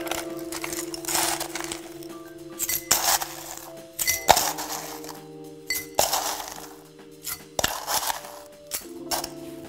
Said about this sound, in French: Remplissez votre verre de glace pilée.